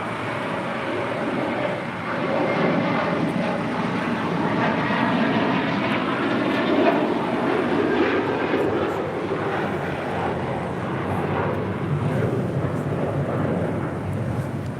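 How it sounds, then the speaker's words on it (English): A JetBlue Airbus A321 taking off from LAX runway 25 right gives a sustained, rumbling jet engine roar that swells and holds steady at moderate distance throughout, with no pauses. "This is JetBlue 2985 taking off to Miami on an A321"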